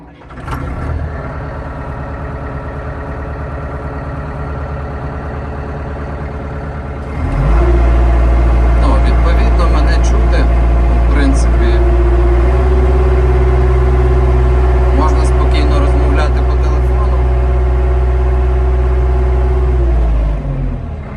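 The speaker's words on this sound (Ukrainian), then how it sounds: "давайте заведемо трактор" A Solis 105 tractor engine turns over and catches after several seconds of low background rumble, then settles into a loud, steady diesel idle with a constant hum heard close up from inside the cab.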